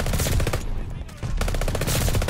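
Sustained rapid automatic fire from the KG M40 rifle in Call of Duty Vanguard, loud and close, briefly broken near the middle before the stuttering bursts resume to the end.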